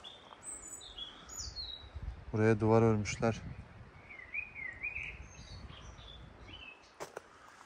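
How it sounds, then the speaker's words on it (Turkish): Birds chirp and trill intermittently in a forest, small, fairly distant calls scattered through quiet outdoor ambience while someone speaks briefly. "Kuş sesleri çok güzel arkadaşlar."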